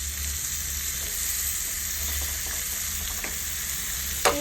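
Onions frying in a pan while being stirred for a sweet corn vegetable soup, a steady close sizzle with soft scraping strokes and a sharp clink near the end, no voices.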